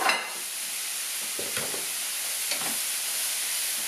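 Leeks and sliced potimarron pumpkin sizzle in a pan under a steady, soft hiss, with a few scraping stirs of a utensil close by and no voices.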